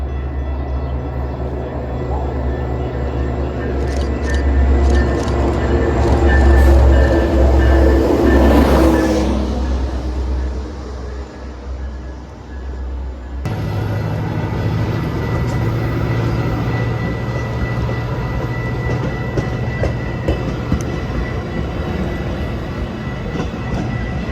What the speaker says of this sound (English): Our first train would be outbound Metro 2603, led by Metro SD70 Mac 500,